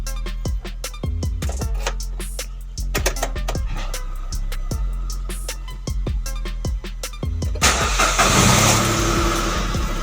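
A car that has sat unused for a while is cranked and starts, the starter whirring through a series of sharp rhythmic pulses before the engine catches and settles into a steady, close idle, with a burst of added noise near the end.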